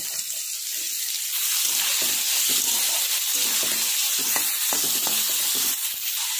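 Carrots and beans fry in a pan for fried rice, a continuous close hiss and sizzle with soft scraping stirs and small clicks throughout.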